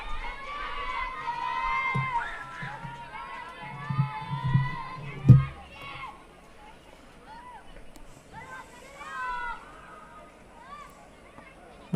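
A crowd at a women's T20 cricket match between Myanmar and Bhutan shouts and cheers in scattered bursts with one loud thump in the middle, heard moderately distant beneath steady commentary.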